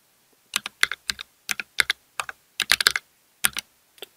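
Rapid keystrokes on a computer keyboard while a project name is entered, coming in short irregular bursts of clicks, close and clear with no talking.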